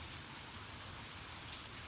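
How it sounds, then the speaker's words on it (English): Steady rain falls outdoors on a cold day near a basketball court, a continuous dense patter and hiss at moderate distance with no voices or other distinct sounds. "It's raining."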